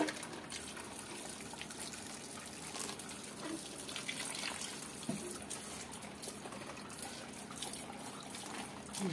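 Water poured onto a potted money plant indoors, a steady broadband splashing and trickling that runs continuously at moderate level throughout, with no talking.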